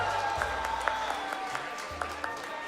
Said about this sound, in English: can I get a round of applause, please, for the next team, Beautiful Mind, with Joe and Nox.